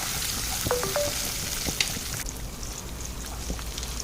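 Shallots sizzling in hot oil in a pan for a Kerala-style chicken curry, a steady close frying hiss with a sharp clink partway through and brief tonal squeaks early on.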